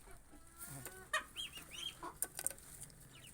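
Backyard native-breed chickens, kept alongside ducks, cluck and squawk close by in short irregular bursts over a steady farmyard background, with no talking.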